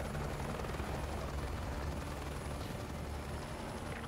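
A helicopter in Call of Duty Modern Warfare 2 Remastered whirs with steady rotor thumping and engine drone, loud and unbroken throughout without any talking.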